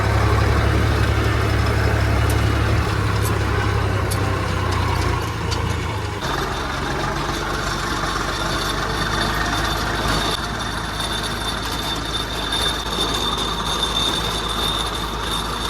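A tractor plowing a farm field gives a continuous, heavy engine rumble. The rumble is strongest for the first few seconds, then shifts to a lighter, steady drone with a metallic edge. No voices are heard.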